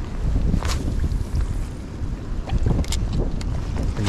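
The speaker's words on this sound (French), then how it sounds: "Il y a tellement de vent, je suis bien dans les manches." Strong wind buffets the microphone during lure fishing on open water, a loud rumbling roar with gusty surges and faint splashes, with no talk.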